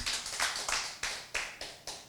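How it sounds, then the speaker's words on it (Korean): Clapping by a church congregation during a Sunday service, about eight sharp, separate claps in a fairly steady rhythm, each ringing briefly in the room before the next. "하나님 앞에 영광의 박수 올려드리겠습니다."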